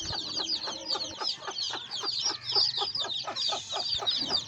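Several chickens cluck and chatter continuously at close range in a farmyard in Chittagong, with hens sitting on eggs among them.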